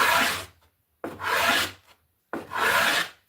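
Three long rasping strokes of a hand plane across century-old wood, each a bright, dense shaving hiss about half a second to a second long, separated by short silences, close and clear with no talk.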